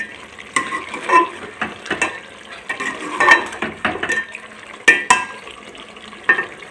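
Salan curry stirred and frying in a pot, a spoon scraping and clinking against the metal in irregular bursts over a soft sizzle, close and without talk.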